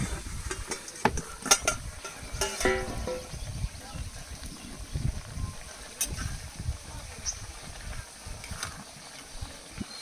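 Tela kucha (ivy gourd) leaf curry with garlic being sautéed in a pan: steady soft sizzling with repeated scraping and stirring strokes, close and moderately loud throughout.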